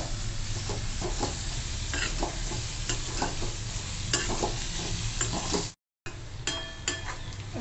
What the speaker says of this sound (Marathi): आता आपण अगोदर हा बारीक चिरून घेतलेला मुळा हा छान परतवून घेऊ तेलावर